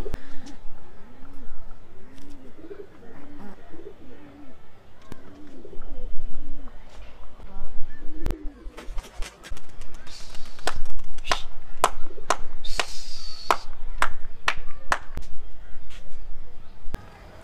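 Madras pigeons, a foreign breed, coo softly up close, then burst into sharp, repeated wing claps and flapping as they are released and take off, with scattered clapping continuing as they fly.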